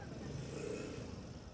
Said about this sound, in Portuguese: o cara veio andar de moto aqui